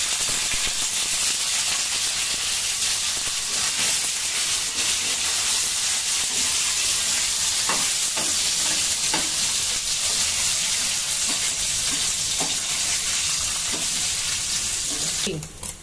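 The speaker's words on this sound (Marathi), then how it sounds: "आपल्याला हे पनीर थोडी तळून घ्यायचे, म्हणजे शॅलो फ्राय करायचे, जास्त तळायचं नाही." Paneer shallow-frying in oil in a frying pan on a low flame, a loud continuous hissing sizzle throughout with occasional faint taps from a utensil, which cut off abruptly at the end.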